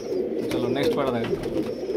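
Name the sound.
male pigeon cooing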